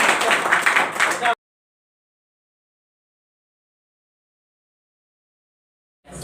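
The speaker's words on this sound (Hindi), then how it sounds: "बजाओ ताली जी" A classroom of students claps briefly at close range, a burst of about a second and a half that stops abruptly into silence.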